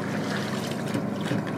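A big, fast powerboat passing near a smaller boat, its wake splashing and hissing in a constant loud rush of water with gusts of wind noise.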